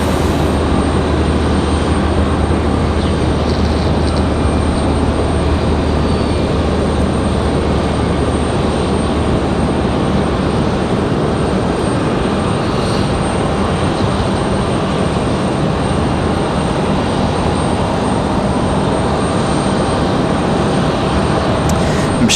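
Boeing 777 jets departing one after the other at Raleigh-Durham International Airport, a loud, unbroken roar of jet engines lasting throughout with no voices.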